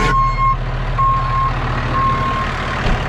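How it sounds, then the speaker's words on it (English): Three evenly spaced electronic backup beeps from a reversing truck on a farm sound over its loud, rumbling engine idling close by. "Yes, that is a truck backup."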